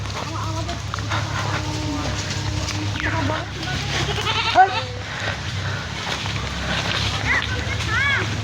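Goats bleat now and then amid a busy farmyard with cows and sheep in a Santali village, with people talking and a steady low hum underneath.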